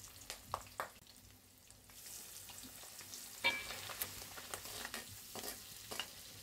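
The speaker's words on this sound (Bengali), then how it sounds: "এখন আমি এটা ভাজা করব।" River prawns coated in turmeric, chili powder and salt fry in hot oil with a steady soft sizzle, punctuated by occasional spatters and stirring scrapes, close and fairly quiet, no talking.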